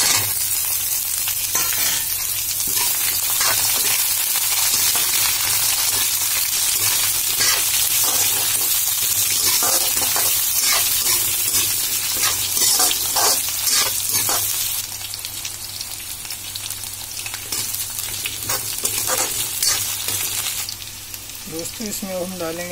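Potatoes fry in hot oil for aloo kadhi, a loud continuous sizzle broken by scraping stir strokes, easing slightly toward the end.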